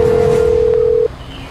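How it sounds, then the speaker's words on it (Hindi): Telephone call going unanswered: a single steady electronic tone held for about a second, then stopping, leaving a quiet background hum. "भैया जी फोन नहीं उठा रहा है।"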